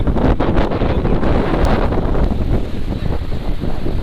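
Strong wind on the seashore at Dhanushkodi, a loud, continuous roar of gusts buffeting close by with the rush of surf beneath, unbroken from start to finish.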